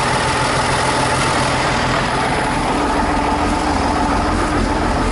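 A parked piece of Cummins diesel-powered tree-clearing equipment idles steadily nearby, a loud continuous low rumble with a faint tonal hum, no voices.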